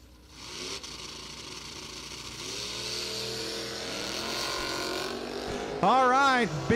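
Drag race cars accelerate together, a Mustang and a wagon, with engines rising in pitch as they pull away, then a loud close high-revving pass near the end, with an announcer's voice over the rumble.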